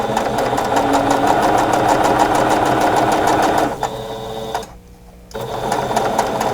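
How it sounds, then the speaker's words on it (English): A sewing machine runs steadily, stitching a quarter-inch seam on quilt block pieces, with a loud, even mechanical whir that breaks briefly for a near-silent pause before resuming at the same pace. "let's sew the 1/4 inch seam"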